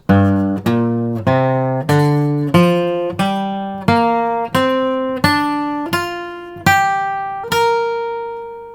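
An electric guitar climbs a G pentatonic scale from the low G root, one plucked note at a time, about a dozen evenly spaced notes, each ringing briefly before the next.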